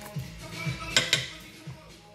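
A spoon stirs meat and partly thawed frozen vegetables in a pan, giving soft scraping, sizzling and a couple of sharp clinks against the metal.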